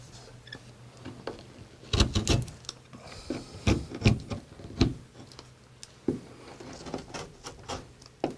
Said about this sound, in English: I'll be taking the rest out with a chisel